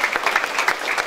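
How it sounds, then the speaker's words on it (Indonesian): Audience clapping at a primary school gathering in Toraja, a short burst of brisk, fairly loud applause from a group, even and continuous with no voices on top. "Tepuk tangan dulu."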